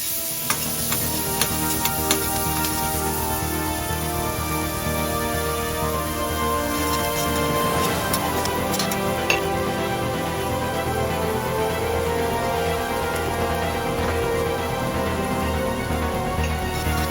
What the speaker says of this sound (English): add your vegetables. You're going to saute them for about 6 minutes.